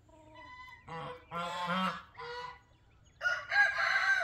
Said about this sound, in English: He's making kind of a cooing sound.